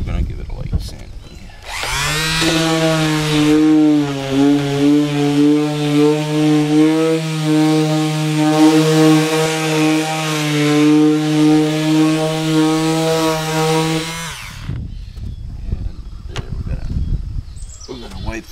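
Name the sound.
sanding dried spackling compound on a module deck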